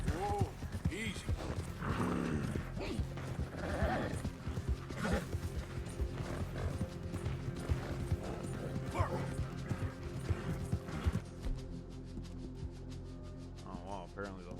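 Horse hooves in Red Dead Redemption 2 clop steadily alongside mechanical clatter, with the horse whinnying at moments, all fairly close and continuous.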